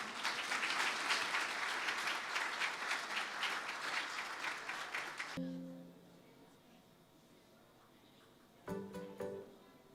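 A church Sunday school Christmas celebration audience breaks into loud, dense clapping that fades out after about five seconds, followed by a quiet stretch with a brief tone and a short burst of sound near the end.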